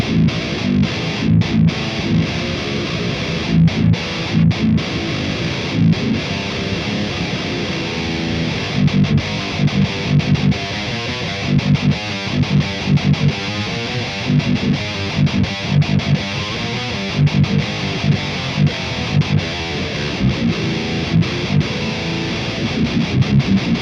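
Heavily distorted low-tuned seven-string electric guitar through a Kemper high-gain profile plays chugging palm-muted riffs, loud and continuous with no voice.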